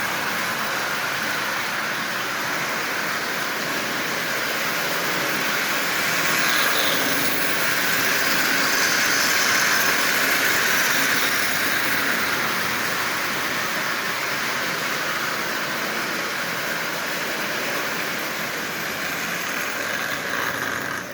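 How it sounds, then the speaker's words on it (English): A Marx toy electric train engine runs continuously pulling 20 full-size Marx cars, with a steady, whirring rumble and a faint rattle of cars along the track. "this is a lot of weight for this little engine to pull"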